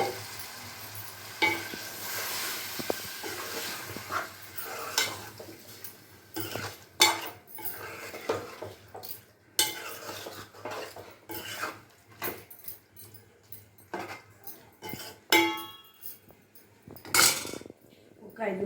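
Chicken pieces sizzling in a pan with turmeric as a utensil stirs and scrapes against the metal in uneven bursts, with soft clinks between strokes and occasional talking in the background.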